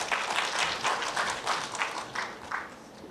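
Audience applause greeting a speaker at a lacquer-craft gathering, a moderate patter of many hands clapping in uneven bursts, fairly quiet and steady for a few seconds with no talking.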